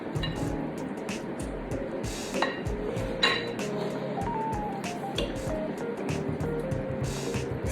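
Chocolate chip bread pudding mixture is scooped into a casserole dish, with soft wet scraping and clinking of a utensil against the dish over steady kitchen background noise.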